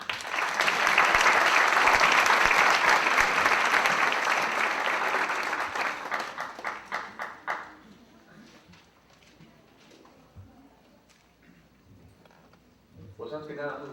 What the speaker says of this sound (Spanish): Recibamos ahora sí con un fuerte aplauso la cátedra magistral del señor maestro Enrique de la Madrid Cordero